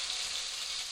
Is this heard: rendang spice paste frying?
yes